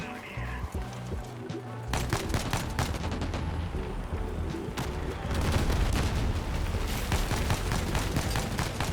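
Rapid, violent grenade launcher explosions and gunfire blast continuously in the video game Crossout, loud and dense, with booming impacts layered over one another in a chaotic battle.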